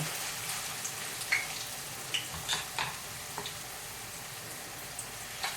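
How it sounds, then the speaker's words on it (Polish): Four small potato pancakes sizzle and crackle steadily in a frying pan, a dense bed of hissing oil broken by brief sharper pops, close and fairly quiet with no voices. "I teraz będę kładła nasze placuszki."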